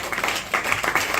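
Church congregation applauding the prophet, a brief burst of dense, close clapping from many hands with a voice faintly underneath.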